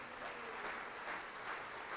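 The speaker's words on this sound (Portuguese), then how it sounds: "Vamos aplaudir mais ao nome de Jesus, está chegando mais." A church congregation applauds together in steady, continuous clapping that fills the room at an even level throughout.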